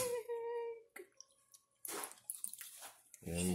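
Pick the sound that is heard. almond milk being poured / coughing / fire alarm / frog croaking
almond milk being poured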